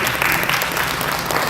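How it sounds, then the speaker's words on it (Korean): Steady applause from the audience at a book concert held in a conference hall, a dense continuous wash of clapping lasting the whole short moment. "큰 박수 부탁드립니다."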